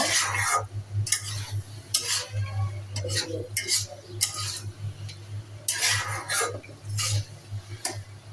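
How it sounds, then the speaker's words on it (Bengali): Golda prawns being stirred in a cooking pot for a potato bhuna: repeated scraping, clattering strokes of a utensil against the pot come in bursts of uneven rhythm over a low steady hum, close and fairly loud with no talk. "চিংড়ি মাছগুলো দিয়ে আমি নাড়াচাড়া করে নেব।"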